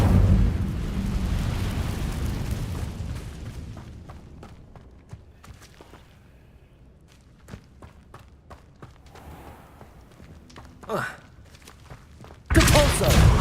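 The Incendio fire spell in Hogwarts Legacy bursts with fiery whooshes and thuds amid scattered combat thumps, ending in a loud sudden blast.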